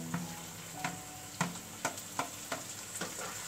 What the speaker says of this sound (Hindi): सब्जियां पक चुकी हैं, यहाँ पे हम डालेंगे टमाटर।